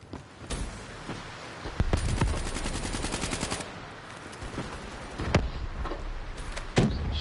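Automatic weapon fire in the video game Black Ops 3, with rapid bursts of gunshots and sharp single shots over a busy, loud game soundscape.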